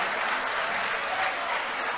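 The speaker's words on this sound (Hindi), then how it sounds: "जोरदार तालियां" Dense, steady applause from a poetry mushaira audience, many hands clapping at once, loud and continuous for the whole stretch.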